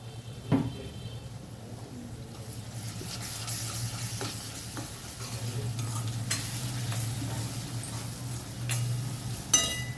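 Ingredients for a bommidayila fish curry fry in a pan with a continuous sizzle, broken by occasional stirring scrapes and light clinks of a utensil.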